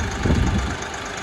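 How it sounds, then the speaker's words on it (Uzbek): A 3-cylinder, 30-horsepower tractor with an automatic gearbox idles nearby, giving a loud, steady low rumble with a continuous knocking texture and no voices. "3 porshilli 30 ta otkili avtomat korobka traktorimiz bo'ladi akalar"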